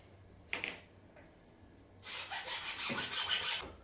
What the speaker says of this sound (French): ta scie à métaux